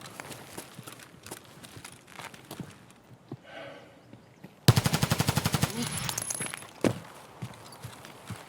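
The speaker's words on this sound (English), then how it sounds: "he's just shot 3 or 4 rounds at like as fast as you could shoot it." A quick burst of about ten sharp, evenly spaced M700 rifle shots rings out in a video game, loud and close, then fades back into quieter game ambience.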